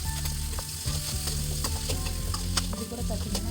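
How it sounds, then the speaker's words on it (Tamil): Tomatoes sautéing in a pan for a cauliflower gravy, with a steady sizzle and frying crackle broken by repeated scraping and stirring strokes, close and continuous throughout with no talk. "தக்காளியை நல்லா கொஞ்சம் வதக்கி எடுக்கலாம்."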